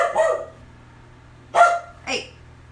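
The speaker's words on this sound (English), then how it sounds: "Sorry for the barking." A dog barks nearby indoors, three separate sharp barks spaced out over a few seconds against a quiet low background hum.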